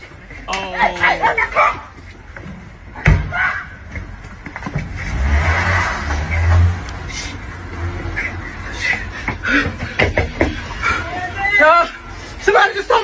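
A car pulls away in a theft, its engine rumbling low and loud through the middle stretch under nearby voices, barking and general commotion.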